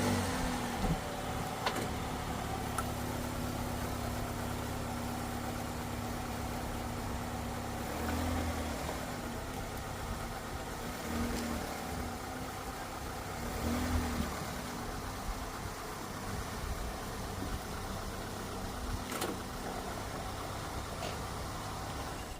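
A 2009 Chevy Cobalt with 136,106 miles idles low and steady while slowly creeping forward onto ramps, the faint engine hum continuous with occasional soft thumps and creaks.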